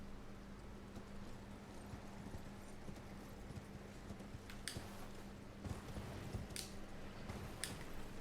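Horse hooves in the video game Elden Ring, faint clip-clop footfalls over a low steady hum, with a few sharper, brighter hits standing out near the end.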